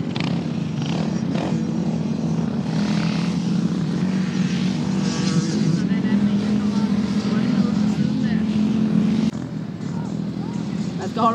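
Rented 99cc ATV engines racing across the Oregon Dunes sand, a continuous dense buzzing drone mixed with wind and rumble throughout, with voices intermittently audible underneath.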